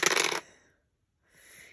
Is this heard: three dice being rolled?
yes